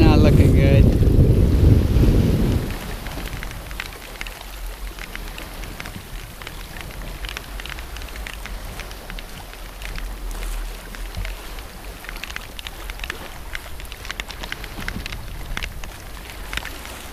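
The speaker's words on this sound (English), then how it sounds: "The waves are confused and pretty large for the amount of wind we have, only about 20 knots" Aboard a sailboat entering the Gulf Stream, large confused ocean waves churn under roughly 20 knots of wind: a loud rushing surge for the first couple of seconds, then a steady, close wash of wind and water with no talking.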